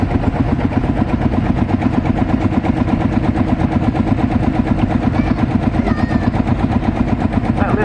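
A grey Ferguson tractor runs in a rally parade, its engine giving a loud, steady, rapid chugging beat close by throughout.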